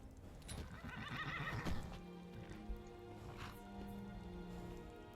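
A horse in the Skyrim video game whinnies loudly amid clip-clopping hooves, the neigh rising and falling over a couple of seconds before steady hoofbeats continue with faint ambient game sound.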